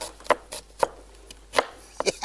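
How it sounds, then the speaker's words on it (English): Knife chopping mushrooms on a board for an omelette, a handful of crisp, irregular close-up taps spread over about two seconds, with no talk. "Hiyo ndio chopping."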